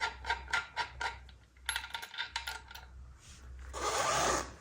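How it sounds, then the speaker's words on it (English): A nut comes off an e-bike wheel axle: a run of quick metallic ratcheting clicks from a wrench, a pause, another rapid burst, then a brief scraping rustle, all close up. "Undo this nut."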